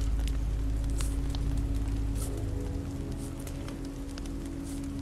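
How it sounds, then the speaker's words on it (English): Steady rain falls in a scene from The Walking Dead video game, a constant hiss with scattered drop patters and a low rumble that eases slightly after the first couple of seconds, with no talking. "This rain will turn to sleet."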